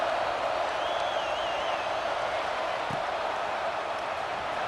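Stadium crowd noise from the EA Sports College Football 26 video game, a steady broad roar of murmuring fans that stays even throughout, with a faint whistle-like tone drifting briefly above it and a soft thud near the end.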